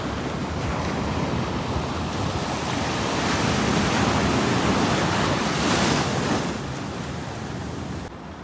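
Ocean surf at Lands End in San Francisco roars loudly and continuously, the wash of breaking waves swelling midway and then easing, with wind buffeting the microphone.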